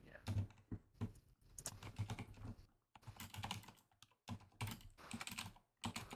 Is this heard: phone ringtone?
no